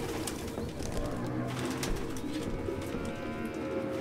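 Several pigeons coo steadily in a cluttered room in a video game, a low continuous burbling throughout with faint rustling and clicks mixed in.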